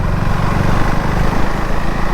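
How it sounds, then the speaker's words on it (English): A KTM Duke 390 motorcycle engine drones while riding, a loud, steady, low buzzing rumble that holds an even pitch throughout with no speech. "I find myself riding the motorcycle within the city mostly in the third or the fourth gear."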